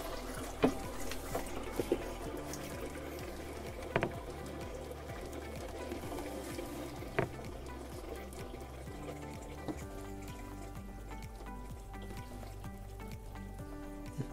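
Water trickles and spurts from a newly fitted camper faucet as the lines refill, a faint, uneven flow with scattered drips and small clicks throughout.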